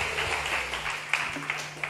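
A church congregation at a worship service claps hands in a soft, scattered patter, with a few sharper claps standing out over a low, steady electrical hum.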